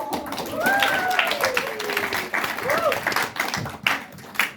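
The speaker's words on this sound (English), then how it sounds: "A big applause." Applause from an audience at an awards event Q&A, broad clapping running under brief speech, uneven in loudness with a few louder bursts toward the end.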